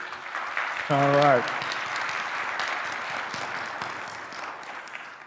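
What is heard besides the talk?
audience applause at a debate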